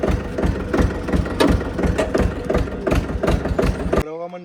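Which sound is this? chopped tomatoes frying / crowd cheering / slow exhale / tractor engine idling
tractor engine idling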